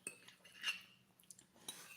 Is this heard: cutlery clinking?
yes